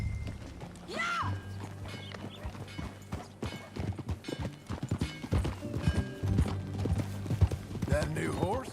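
Horse hooves during riding in the video game Red Dead Redemption 2, a rhythmic clip-clop of steady gallop-like beats with occasional snorting, heard under intermittent talk and a low music drone.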